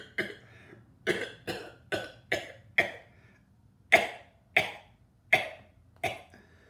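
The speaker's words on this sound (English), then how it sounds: "How long have you had that cough?" A series of about ten sharp, separate coughs spaced across several seconds, each a short harsh burst standing alone in a quiet room with no talk.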